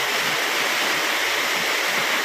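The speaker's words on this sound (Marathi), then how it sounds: "हा पहा आमच्या गावचा धबधबा, आमच्या गावातील वॉटरफॉल सुंदर असा निसर्गाच्या सानिध्यात बसलेला" A village waterfall in lush natural surroundings roars as a dense, steady rush of falling water, loud and close, with no voices over it.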